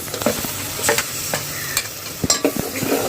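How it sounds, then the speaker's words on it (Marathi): Ginger garlic paste sizzles in hot oil for a chicken dish, with repeated scraping stirs and knocks of a spoon against the pan over a steady frying hiss, close and loud, no voices. "याला फ्राय करून घेऊया तेलामध्ये लगेच आपल्याला इथे आलं लसूणची पेस्ट टाकायची आहे"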